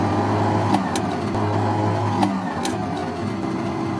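A Ferrari 348 engine running around 3,000 RPM through first and second gear shifts, a loud, close, steady mechanical drone with a few sharp clicks from the gearchange.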